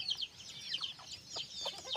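Hens and chicks cluck and peep close by in quick, overlapping bursts after rain, fairly quiet and with no talking.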